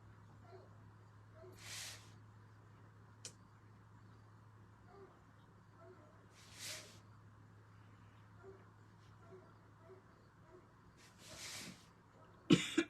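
A person coughs several times in a quiet room, each short dry burst spaced a few seconds apart over a low steady hum, ending with a couple of sharper coughs.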